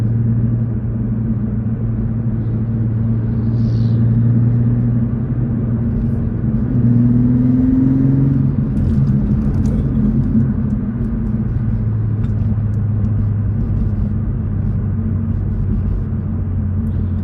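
Toyota GR Supra 3.0 engine pulling hard under acceleration, a steady loud droning rumble with a slight rise in pitch midway, heard from inside the car with faint voice-like traces.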